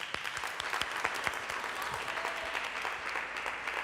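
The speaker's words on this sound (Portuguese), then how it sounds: "Uma salva de palmas para ela." Steady crowd applause fills a church service, dense and sustained throughout with sharp individual claps poking through the wash of hands.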